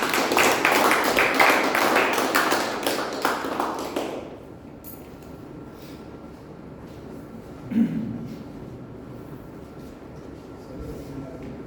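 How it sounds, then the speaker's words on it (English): Audience at a Toastmasters club meeting applauding the Table Topics master, a dense burst of clapping for about four seconds that abruptly stops, leaving a quiet room with a single faint thump. "Huge round of applause for Toastmaster Neelam"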